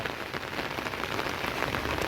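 Steady heavy monsoon rain pattering on a hard surface, a dense even patter with no voices.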